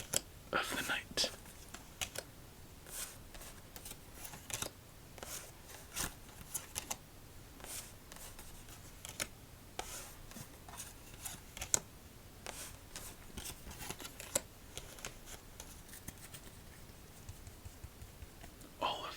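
Playing cards being stacked and shuffled after a round of solitaire, quiet close-up riffles and taps recurring in short bursts amid soft whispering in a calm setting.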